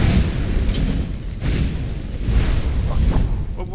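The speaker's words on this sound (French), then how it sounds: "C'est quoi toutes ces explosions là?" Explosions in the video game Skyrim, a run of booming blasts and rumbling bursts rolling one into another, loud and close across the whole stretch with no talk over them.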